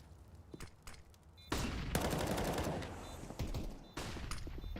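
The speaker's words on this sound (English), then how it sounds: "And KTZ now with an AK." AK rifle fire in Counter-Strike during a professional esports tournament match: dense, sustained automatic bursts with overlapping shots, loud and continuous after a few sparse opening cracks, no voices.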